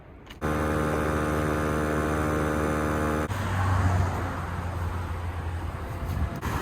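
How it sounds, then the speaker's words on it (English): A Viair air compressor wired straight to the battery inflates a Toyota 4Runner tire at the beach, its steady motor hum and buzz running loud and close, then shifting to a rougher, noisier drone partway through. "We're going to be using this Via air compressor that connects directly to the battery."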